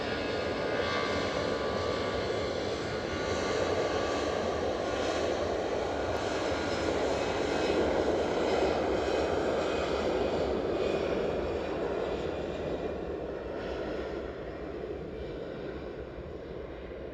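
An EasyJet airliner climbs away from Edinburgh airport with a loud, continuous jet roar that holds strong through the middle and then slowly fades as it departs.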